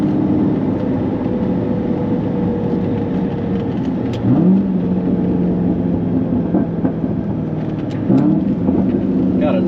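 An LS3 V8-swapped Mazda MX5 ND2 at full throttle, a loud steady engine drone from inside the car with rising pitch sweeps as it shifts gears, rumbling throughout, with no voice heard.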